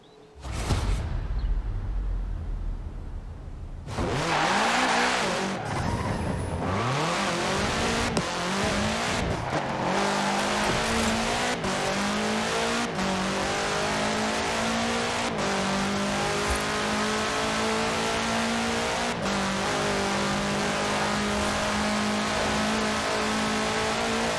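Car fitted with a 2.5-liter F4 turbo engine in the Forza Horizon 4 video game, a loud engine revving up and down through repeated gear changes, with tire squeal and skidding, after a quieter opening.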